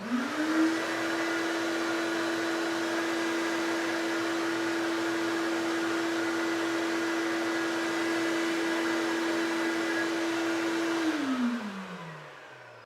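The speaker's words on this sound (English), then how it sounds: "The vacuum is in the green zone, just like all the other ones were." A shop vacuum runs with a steady whirring drone and a constant motor whine, close and alone, then spins down at the end.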